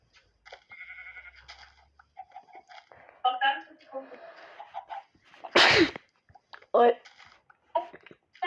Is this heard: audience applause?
no